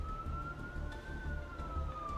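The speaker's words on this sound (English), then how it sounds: "It wouldn't be one of my videos without sirens in it." A police siren wails outside at a distance, one long, faint tone that rises slowly and then falls, steady beneath a low background hum.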